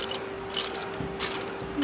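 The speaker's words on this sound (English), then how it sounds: "I'm going back to the ratchet." A ratchet wrench working a spark plug on a Suzuki SV650 motorcycle gives a few close, soft ratcheting clicks in short bursts over a steady hum, with no talk.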